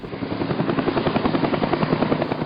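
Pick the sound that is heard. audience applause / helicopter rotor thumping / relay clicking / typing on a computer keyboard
helicopter rotor thumping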